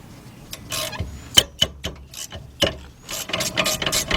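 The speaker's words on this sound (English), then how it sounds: "Let's get me a 3/8 drive ratchet." A 3/8-inch drive ratchet with a 12mm socket loosens a bolt at the rear brakes of a 2007 Honda Accord, with quick ratcheting clicks in uneven bursts and some clunks from handling.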